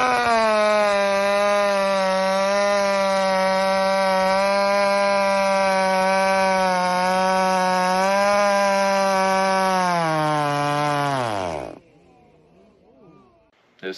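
An 85cc chainsaw cuts through a log at a sawfest. The loud, steady high-revving engine whine holds under load, sags in pitch, then cuts out abruptly as a piston ring sticks, leaving near silence.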